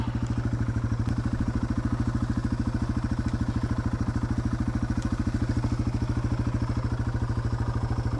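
A Yamaha TW200 motorcycle picks its way over rocks in the bush, its engine chugging in a steady low rapid pulse at close range, with faint clatter over it and no talk.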